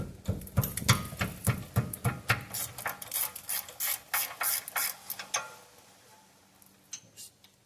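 A ratchet clicks rapidly in bursts while loosening the 15 mm bolts on a rear brake caliper bracket of a 2012 Ford Explorer, close and crisp, then slows to a few scattered clicks and quiet handling.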